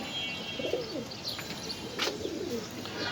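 Pigeons coo softly at a pigeon farm in Mirpur 13, a few low, rolling calls rising over a steady quiet background, with faint chirps mixed in and no one talking.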